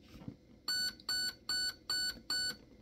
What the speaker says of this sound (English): Four beeps is 4 round bursts.